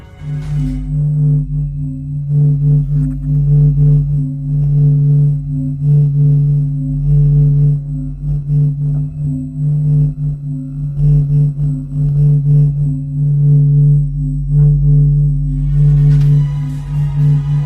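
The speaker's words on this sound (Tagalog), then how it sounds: "Ganito ang tunog ng araw." A sonification of the Sun: a steady, low droning tone with layered harmonic hums pulses slowly and continuously, eerie and synthetic, with a faint hiss rising near the end.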